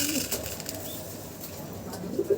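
Pet pigeons give soft, low coos with a brief flutter of wings, heard close by in a quiet room for a couple of seconds.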